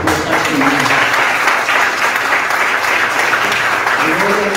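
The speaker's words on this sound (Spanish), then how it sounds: "Dale un aplauso por el Señor." A church congregation applauds loudly and continuously, a thick, close wash of clapping with voices mixed in underneath throughout.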